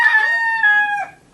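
A Colombian blacktail hen in a chicken coop gives a single drawn-out, crow-like call of just over a second, close and clear, its voice sliding downward before fading.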